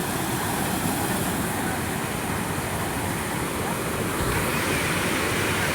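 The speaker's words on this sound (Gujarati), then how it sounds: "અહીં જો મસ્ત મસ્ત છે ને પાણી પડે છે" Water pours down steadily at a temple site, a loud, continuous rushing roar that holds unbroken from start to finish with no other sound standing out.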